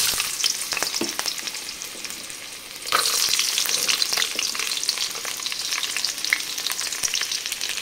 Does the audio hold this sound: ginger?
yes